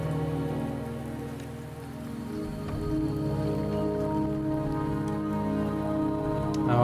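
Steady rain falls on surfaces in the video game Wuthering Waves, a continuous hiss layered beneath sustained, droning in-game music at an even level throughout.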